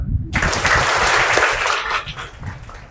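Applause from a school audience at a girls' high school breaks out after a brief pause and continues as dense, steady clapping before thinning toward the end.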